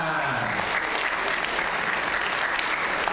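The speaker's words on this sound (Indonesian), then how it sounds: "Tepuk tangan, tepuk tangan." An audience at a motivational seminar breaks into steady, dense applause that fills the whole stretch at a loud, even level, with a faint crowd murmur underneath.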